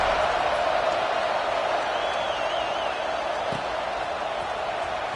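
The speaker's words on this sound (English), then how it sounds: "this crowd is buzzing after that last score" A football stadium crowd buzzing after a score, a loud, continuous roar of many voices with scattered whoops and a brief whistle, all from a distance and steady throughout.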